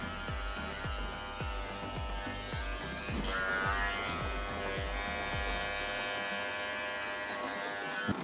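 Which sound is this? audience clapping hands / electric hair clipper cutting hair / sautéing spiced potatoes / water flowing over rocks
electric hair clipper cutting hair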